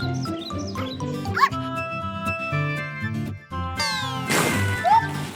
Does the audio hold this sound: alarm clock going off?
no